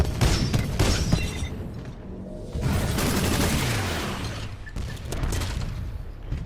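Tone Titan's Salvo Core rockets in Titanfall 2 fire as a dense, rapid barrage of loud booming blasts and crackling impacts, with a brief lull midway before the volley resumes.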